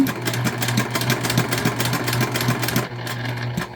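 A sewing machine runs in a fast, even stitching rhythm through silk fabric for an Elizabeth tote bag, close and alone, then stops just before the end.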